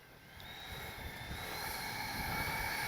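A Freewing 80mm MiG-21 RC jet with a new power system flies past, its ducted-fan whine rising steadily and growing louder over three seconds with no talk.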